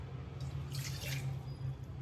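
Water poured into a cooking pot to boil for a ginger preparation, a steady faint splashing trickle with a brief brighter gush midway, close by and with no voices.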